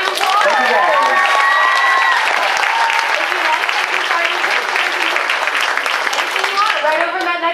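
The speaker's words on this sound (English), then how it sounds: "Everybody, give him applause." A comic con crowd applauds Drake Bell, loud dense clapping with some cheering and whoops, sustained for the whole stretch.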